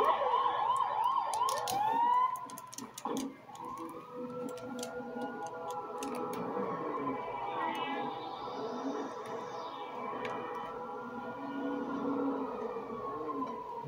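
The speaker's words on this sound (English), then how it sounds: "I like the siren, so pretty cool." Emergency vehicle siren in the GTA 5 video game, a steady wailing tone rising and falling over the whole stretch alongside other game sounds and brief chirps, fairly loud and without talk.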